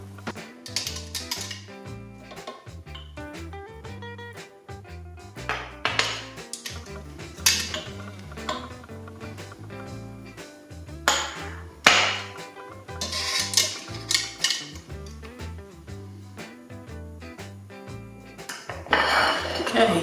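Chocolate peanut butter lava cakes are lifted out of an Instant Pot, with clanking metal pot and ramekin knocks, rattling lid and utensil clatter, close and busy, beneath background music and occasional speech.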